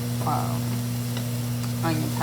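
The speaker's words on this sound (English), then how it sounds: "Now here we're going to add our minced garlic." Minced garlic sizzling in a hot pan while cooking salmon Alfredo, a steady close crackling hiss over a constant low electrical hum, with brief stirring scrapes.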